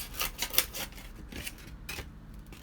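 A blade cuts through the bottom of a polystyrene burger box, giving a series of close, quiet, scratchy strokes in an uneven rhythm.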